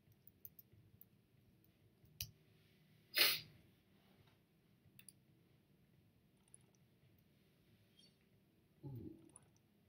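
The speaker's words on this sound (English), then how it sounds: "I apologise if you can hear me clicking. My mouse is quite close to" Computer mouse clicks right beside the microphone: sparse, sharp ticks scattered across a quiet background, with one louder click-like burst near the middle and a soft muffled bump toward the end.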